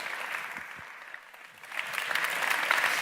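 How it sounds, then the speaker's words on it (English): A crowd applauds Nassim Haramein at a talk; clapping starts moderate, dips slightly, then swells louder and denser toward the end. "Please give a big round of applause to Nassim Haramein."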